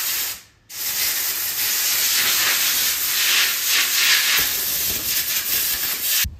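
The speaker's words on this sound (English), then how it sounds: "We're just going to blow it out with some air and make sure it looks good." Compressed air blasts steadily against a leaf blower's air filter, a loud continuous hiss that runs for several seconds after a short pause near the start.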